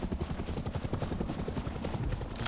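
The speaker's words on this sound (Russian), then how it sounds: "Коптер летит." Helicopter flying in the survival game Rust, a rapid rhythmic rotor thump pulsing steadily and fairly close, heard alone with faint higher chirps on top.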